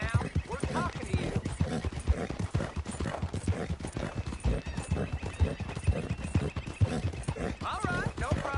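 Horse hooves clip-clop in Red Dead Redemption 2 in a dense, continuous rhythm under a layer of game voices and ambient noise.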